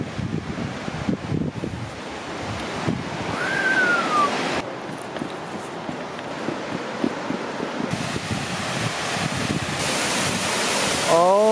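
A large waterfall in Vietnam roars as a broad, constant rush of falling water with wind buffeting the microphone, loud and continuous throughout.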